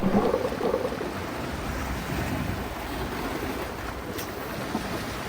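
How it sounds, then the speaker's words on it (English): Big ocean waves and a strong current off a desert island shore, a steady loud rushing wash with wind buffeting the microphone, continuous with no voices. "Strong current, big waves."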